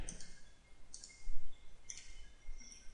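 A computer mouse clicks a few times, short crisp ticks spaced about a second apart, close and fairly quiet against a faint room hum, with no talk.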